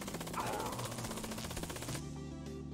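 Rapid, continuous automatic gunfire from a weapon in a Destiny-like shooter, a dense, steady stream of fast repeating shots that cuts off near the end, heard without talk.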